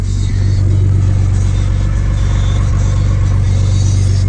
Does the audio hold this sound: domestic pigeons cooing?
no